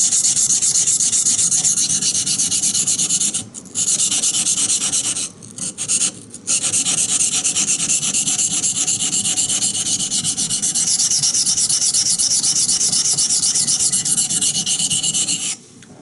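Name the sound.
Bark River Bushcrafter knife sharpened on 220 water stone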